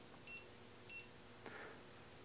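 An Inkerma DM-262 laser distance measurer gives short, faint electronic beeps, several in sequence, against a quiet room hiss.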